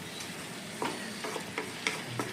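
Chicken masala stirred in a pan over a steady sizzle, with a few soft scraping strokes spaced roughly half a second apart; close and fairly quiet, no voices.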